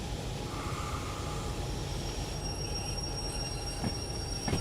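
A steady low mechanical drone of an idling locomotive in the train game Derail Valley, with faint whining tones and a couple of brief clanks near the end.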